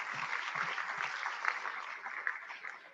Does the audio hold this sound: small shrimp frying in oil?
no